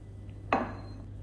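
A single sharp clink of a metal utensil against a pan as homemade village-style fried rice with egg, shallot, garlic and chili is lifted off the turned-off heat, followed by a brief ringing tail over a low steady hum.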